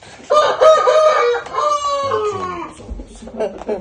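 A 5.25 kg fighting rooster crows loudly close by, a long strained call, followed by quieter clucking and bird sounds.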